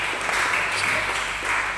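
A church congregation applauds during a revival service at GMIT Emaus Oebelo, a sustained wash of clapping from many hands at an even level.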